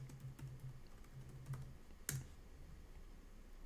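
Quiet keyboard typing of a .NET Watch command, a handful of soft scattered keystrokes followed by one sharp louder key press, then low room hiss with no speech.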